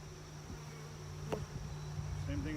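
Honeybees hum softly around a hive brood frame in an outdoor bee yard, a low steady drone with a few brief nearer buzzes as individual bees pass close.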